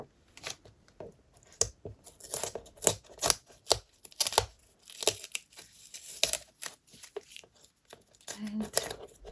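Glued paper being peeled and torn off a wall calendar, heard as soft, irregular tearing and crinkling bursts close by.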